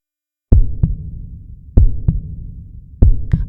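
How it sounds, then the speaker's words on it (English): Heartbeat sound effect: deep, booming lub-dub thumps arriving in three evenly spaced double beats, each pair followed by a low, fading hum. "her heart pounding"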